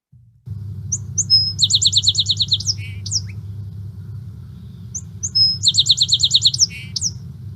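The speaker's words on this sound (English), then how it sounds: "Song sparrow, you can sort of hear those 2 or 3 introductions to the song." A song sparrow sings two full songs, each opening with a few introductory notes followed by a rapid buzzy trill, clear and close over a low steady background hum.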